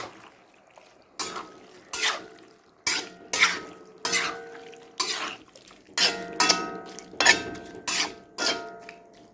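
Beef tripe fry being stirred in a pan with a spoon or spatula: about a dozen distinct scraping, sizzling strokes in an uneven rhythm, loud and close, each separated by short quiet gaps.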